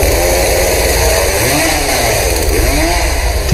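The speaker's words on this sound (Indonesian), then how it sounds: "Dara pun datang menggunakan gergaji mesin" A chainsaw roars through a fight scene in the Indonesian psychopath horror film Rumah Dara, its loud, steady engine drone rising and falling with revving surges and no voices over it.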